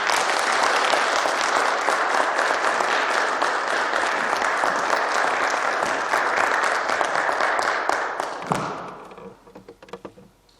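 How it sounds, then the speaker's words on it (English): An audience at a Martin Luther King Jr. Day keynote at Kentucky Wesleyan College applauds the speaker, a loud, full round of clapping that holds steady for about eight seconds, then thins into scattered claps and fades. "So if we could just give a warm round of applause for Dr. Oleka."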